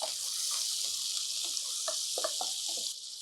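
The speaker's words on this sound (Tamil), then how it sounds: "வெங்காயம் கொஞ்சம் நல்லா வதங்கட்டும்." Onions frying in oil with a pinch of salt for a Tamil soya and drumstick curry, a steady bright sizzle throughout with faint scraping stirs, close and continuous.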